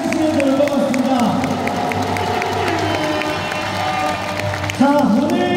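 At a fan festival celebrating a professional basketball championship, a crowd cheers and claps continuously beneath an amplified announcer's voice and music, with a brief surge near the end.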